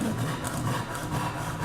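A hand saw cuts wood for traditional Korean joinery, a steady rasping back-and-forth stroke close by and fairly loud, continuous with no talk.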